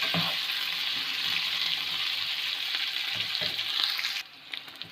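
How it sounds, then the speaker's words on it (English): Chopped onion frying in a pan for chutney, with a steady bright sizzle and occasional stirring knocks that cut off abruptly near the end, leaving faint clatter. "So we have to fry until the onion becomes light brown in color."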